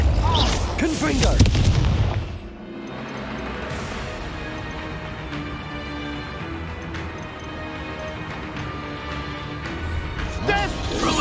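In Hogwarts Legacy combat, Confringo spell blasts land as a heavy boom and crash at the start, followed by lighter impacts and a clattering crackle of effects under a sustained game-music bed.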